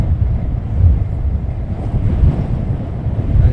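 Strong wind at an airport buffets the microphone with a loud, continuous low rumble that gusts and surges throughout.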